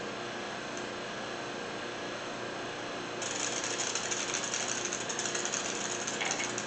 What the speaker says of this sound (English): you can hear the air coming out of the system right now